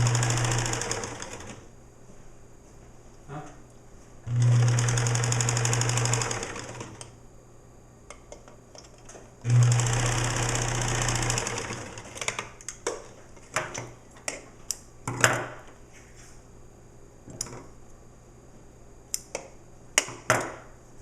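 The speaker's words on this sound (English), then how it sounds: "And then I'm just going to top stitch, and when I top stitch, it's going to catch that." A sewing machine top-stitches a ribbon along the back of a boy's bereavement gown in three loud, steady bursts of rapid whirring. Between the runs come quieter ticks, taps and fabric handling.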